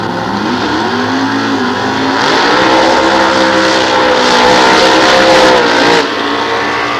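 A blown and injected 468-cubic-inch 1931 Willys at a nostalgia drag race roars loudly and steadily, the engine note swelling for a few seconds mid-run before easing back to a sustained drone.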